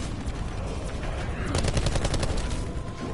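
Rapid bursts of video game gunfire in Call of Duty, with a dense run of shots from about the middle onward over a constant noisy game background.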